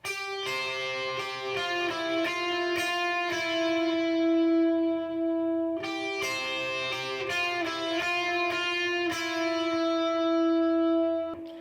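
An electric guitar plays the ringing, effects-laden intro lead riff of a song, with sustained chords and picked notes, repeating the phrase twice, with no voices.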